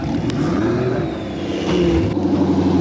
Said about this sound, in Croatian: LS Silvija, apsolutna beštija, znači top auto.